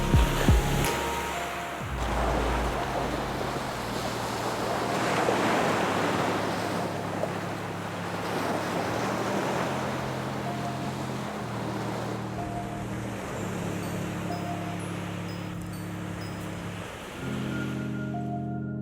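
Ocean surf washes onto Sombrio Beach on Vancouver Island, a continuous rolling roar with wind noise, overlaid by soft sustained musical tones.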